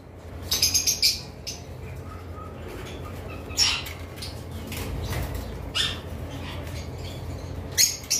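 A caged breeding-pair cockatiel gives short, high chirps scattered across a quiet room, a few distinct bursts spaced several seconds apart over faint background noise.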